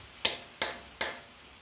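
A metal center punch is struck three times into a rivet on a 1950 Farmall Cub tractor, giving sharp, close, ringing metallic taps at an even rhythm.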